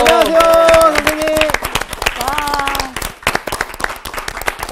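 An audience at a televised Bible lecture on Joshua claps for the lecturer, a brisk close patter of hands mixed with voices speaking or calling out over the clapping.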